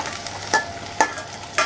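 Onion frying in coconut oil for fish fried rice, a steady close sizzle with three sharp scraping stirs spaced about half a second apart.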